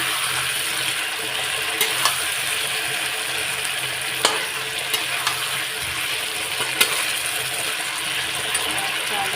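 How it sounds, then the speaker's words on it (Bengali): Potatoes fry in a pan with a steady, close broadband sizzle that runs throughout, broken by a few sharp clicks and scrapes from stirring. "আলুটা দেখো ফ্রাই করছি"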